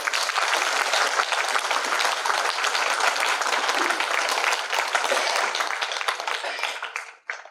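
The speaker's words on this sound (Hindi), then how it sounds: "उन सबको आप एक बार जोरदार ताली बजाएं।" Loud, sustained applause from a large audience at a prize distribution ceremony fills the space, many hands clapping evenly before it fades out near the end.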